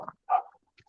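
A dog gives a couple of short, sharp barks, close and brief, separated by silence, with a faint yip near the end.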